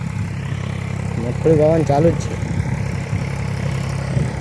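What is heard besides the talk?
tractor engine running in a field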